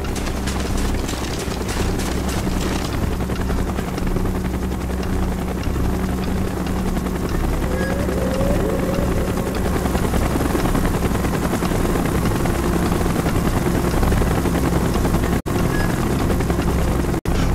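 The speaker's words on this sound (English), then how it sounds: "Chopper's inbound! Move it!" Helicopter in the video game Call of Duty Black Ops: a loud, steady rotor drone with continuous thumping chop, close and sustained throughout, with faint bursts of distant gunfire underneath and no speech.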